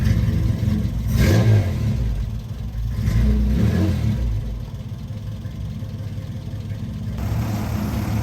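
A hot rod car engine under restoration, in need of a tune-up, revs in a few loud throaty surges before settling back to a rough, low idle, heard up close and alone.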